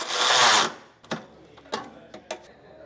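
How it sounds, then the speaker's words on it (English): A socket wrench with a 19mm socket tightens trailer hitch nuts on a 2025 Mitsubishi Outlander, a burst of ratcheting followed by four short, sharp clicks spaced apart, close and fairly loud. "Tighten up the 4 nuts here with a 19mm socket."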